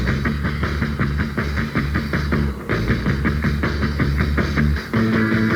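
A 1950s rock and roll recording with driving drums, bass and guitar, loud and steady, the beat pausing briefly midway.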